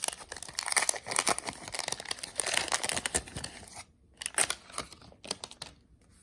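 A vintage early-1980s baseball card wax pack being torn open by hand, close and loud: dense crinkling and tearing of waxed paper wrapper, dropping to brief gaps then a few more sharp crinkles toward the end.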